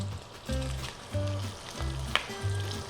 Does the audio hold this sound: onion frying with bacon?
yes